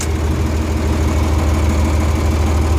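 A tractor engine idles steadily nearby, a loud, even low rumble with constant vibration and no change in pace, and no one speaking.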